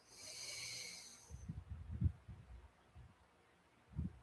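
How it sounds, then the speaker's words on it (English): A slow exhale through the left nostril during alternate nostril breathing: a steady, airy hiss that lasts about a second, followed by soft, low breath and rustle noises. Close and quiet, with no talking. "Release it to the opposite nostril, left."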